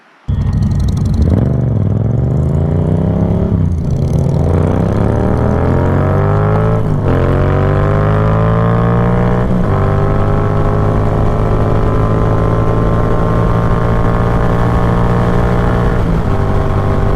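Motorcycle engine on a curvy southern Ohio road accelerating hard, loud and continuous, pitch climbing through repeated gear changes before settling into a steady high-speed drone.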